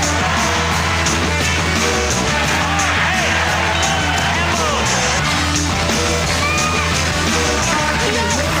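A large, dense crowd murmurs and calls out steadily at a professional bowling championship in Buffalo, with occasional yells rising above a continuous roar.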